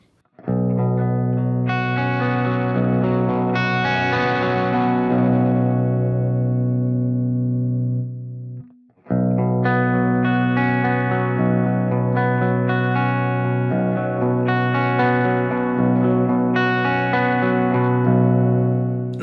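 An electric guitar with high-output pickups through a Fractal Axe-Fx plays sustained chords with a mostly clean tone and a touch of grit, ringing out loudly, with a brief gap partway through.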